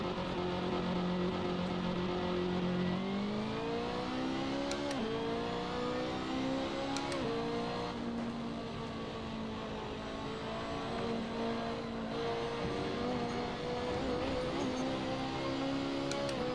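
BMW race car engine in the Assetto Corsa racing game at Road America, a loud, continuous drone that rises in pitch as it accelerates, with shifts and sustained throttle across the lap, no talk over it.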